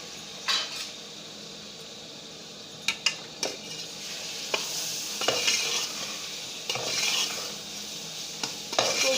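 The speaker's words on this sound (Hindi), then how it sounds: "बहुत अच्छी तरह हमें भूनना है 15-20 मिनट के लिए, ताकि ये जो हमारे टमाटर हैं गल जाएं" Tomatoes and spices fry for a chicken curry, a soft steady sizzle under repeated scrapes and clinks of a spoon stirring against the pan, fairly close with no talking.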